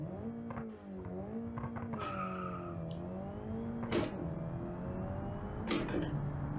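An XR14 Hyena rally hatchback engine in a car-building video game revs steadily with rising and falling pitch as it accelerates and shifts. There are a few sharp transient clicks along the way.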